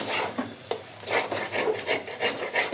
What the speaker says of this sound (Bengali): ডিমটা এইভাবে আমি সুন্দর করে ভেজে নিব, যাতে ডিমের কাঁচা ফ্লেভারটা না থাকে